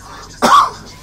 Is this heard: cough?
yes